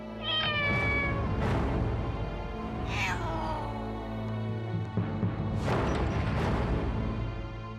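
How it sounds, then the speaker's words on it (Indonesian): Several cats meow loudly at close range, a handful of drawn-out rising and falling cries spaced across the scene over a low background rumble. "Kucing-kucing sialan itu makin banyak aja."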